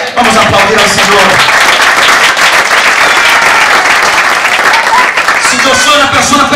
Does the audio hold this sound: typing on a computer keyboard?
no